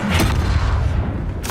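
A loud, booming Confringo blasting-spell explosion from the Hogwarts Legacy video game, a dense rumbling blast with a sharp burst at the end.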